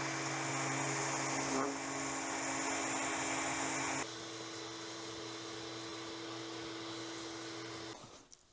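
A power sander whirs steadily over a wooden piece in a woodworking shop, a loud continuous drone that shifts to a lower, quieter pitch midway before cutting off.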